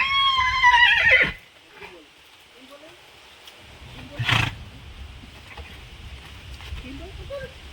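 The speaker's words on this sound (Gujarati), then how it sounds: "મિત્રો આપણે મહેમાનની ઘોડીને મેલી દીધી છે વંટામાં છૂટી." A visiting mare let loose to graze in an open field gives a loud, close whinny at the start, followed by quieter rustling, faint hoof and grazing sounds and one brief snorting burst.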